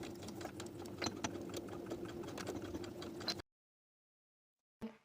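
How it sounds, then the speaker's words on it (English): A sewing machine runs steadily for about three and a half seconds, stitching inside the center back seam of colorblock women's pants to hold the elastic in place, then stops abruptly, leaving silence before a brief final noise. "you can sew inside the center back seam"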